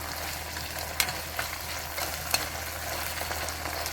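Onions with a little salt frying in a pan, a steady soft sizzle with a few sharp clicks of stirring, close and fairly quiet, no talking.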